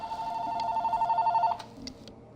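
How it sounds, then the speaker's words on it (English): Phone ringing, a warbling electronic trill that pulses evenly for about a second and a half and then stops, leaving faint clicks and quiet room noise. "Sorry, phone is ringing again."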